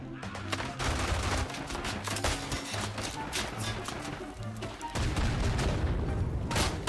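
Bursts of machine gun fire and other gunfire crackle through a World War I battle in the video game Isonzo, mixed with booms and dense battlefield noise that runs without a break.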